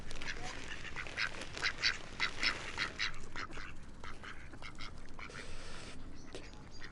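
Ducks quack up close beside a small round spring-fed pond, in a burst of several rapid raspy calls that die away into quiet outdoor ambience.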